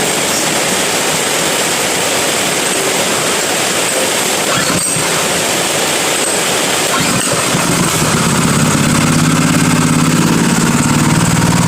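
A small water pump engine starts and settles into a steady idle, its continuous mechanical drone growing fuller and louder toward the end, heard close up with no talking.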